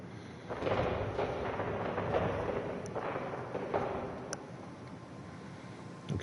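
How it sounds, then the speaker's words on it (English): Fireworks burst in the No Man's Sky video game, a series of muffled booms and rumbling crackles heard from a distance, fading toward a quieter tail with a sharp pop at the end. "Now watch the fireworks from above."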